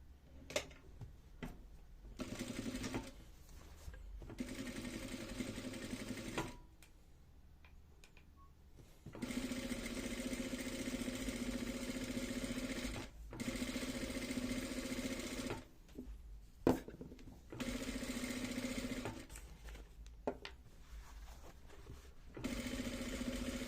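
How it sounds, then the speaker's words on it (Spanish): Sewing machine stitching a reinforcement seam on a tote bag, running in several steady bursts separated by short pauses, close and fairly quiet, with no talking. "Entonces vamos a darle el refuerzo de la costura"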